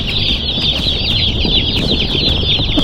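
A box of broiler chicks picked up at a post office chirps loudly and constantly, many high peeps overlapping in a dense, unbroken chorus close by.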